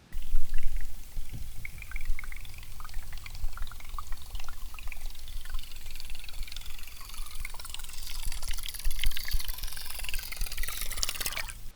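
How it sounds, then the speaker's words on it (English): Whopper Plopper fishing lure on a steady retrieve, heard from underwater: a close, continuous gurgling churn with fizzy bubbling and splashy water noise that runs steadily throughout. "Let's start to take a listen with the Whopper Plopper. Here is the steady retrieve."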